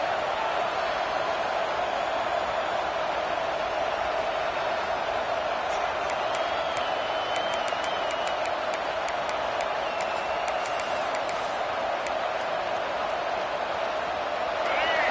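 Stadium crowd noise from the CFB 26 football video game, Washington vs Alabama, a steady loud roar rising on a fourth down, with a commentator talking over it throughout.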